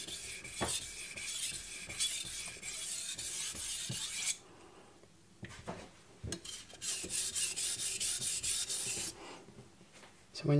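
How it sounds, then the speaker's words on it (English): European knife with a very acute bevel sharpened on a whetstone: long steady rasping strokes broken by short pauses and light clicks, close and moderately quiet. "when you're doing European knives like these with a very acute bevel, it's important to at least try to follow the bevel with the stone"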